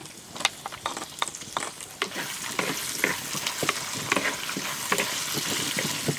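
Sliced onions frying with cashews and curry leaves for vangi bath, a loud steady sizzle in hot oil with frequent scraping stirs of a spoon throughout, no voices.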